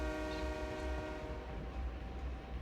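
A video game train rumbles steadily with a sustained horn tone, heavy and continuous throughout.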